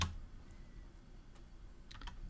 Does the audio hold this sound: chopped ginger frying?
no